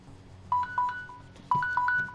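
A mobile phone ringtone in the game Watch Dogs plays two short bursts of bright electronic beeps, a second apart, close and clear with no talking.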